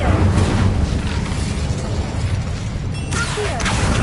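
Incendio fire spell cast in the video game Hogwarts Legacy, a loud sustained roaring whoosh of flame with deep rumble, a brief sharp crackle flaring up partway through.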